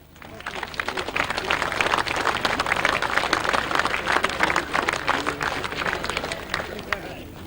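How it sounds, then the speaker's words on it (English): Outdoor crowd at a grasstrack racing awards ceremony breaks into steady applause, a moderate, sustained patter of many hands lasting several seconds, with a faint low hum underneath. "a big round of applause for one and only Paul Hurry"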